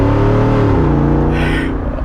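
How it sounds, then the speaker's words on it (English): A 2022 Jeep Wrangler Rubicon 392 with its V8 exhaust opened up rumbles deep and loud up close, the engine note sliding downward as revs fall, with no talking. "this thing makes some beautiful sounds from the exhaust, man"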